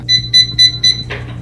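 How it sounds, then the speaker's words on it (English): An automatic hair curler gives four short, loud electronic beeps in an even rhythm, followed by a brief soft hiss; no talking. "And then it beeps when it's time to let it out."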